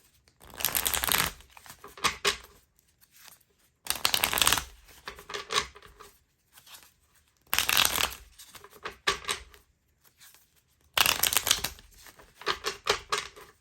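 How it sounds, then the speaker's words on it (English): Four bursts of tarot card shuffling, each a rapid riffle followed by softer shuffling and tapping, with short pauses between, close and fairly loud. "I'll allow these cards to shuffle a bit."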